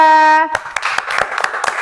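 Classroom applause for a presenting student group in an Arabic teacher-training session: a short spoken phrase gives way to a handful of sharp, irregular hand claps, loud and close.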